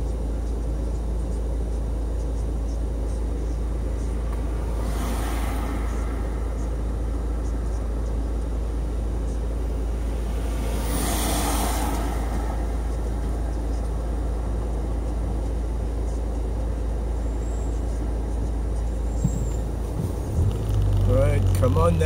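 A car drives along roads near St Ninians Roundabout toward Raploch Road in Stirling, its engine giving a steady low interior drone throughout with only slight swells.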